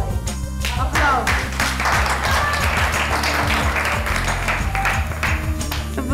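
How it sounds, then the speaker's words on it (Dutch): Audience applause on a Dutch TV show, a dense spread of hand claps mixed with loud, steady music, with voices faintly underneath. "Applaus."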